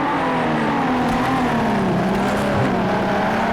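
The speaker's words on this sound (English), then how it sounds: "It was an excellent move by D-Man to get ahead, but Scuderia Sam's not giving it up. He's back on the inside and looking pretty racy too." Race cars in a video game racing championship at Sugo, including Ferraris and a Jaguar, engines droning loudly and continuously with shifting pitch as they battle side by side, no voices.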